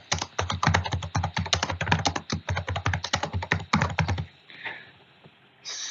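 Fingers typing a name on a computer keyboard, a fast close run of crisp key clicks for about four seconds, then a pause and faint handling sounds.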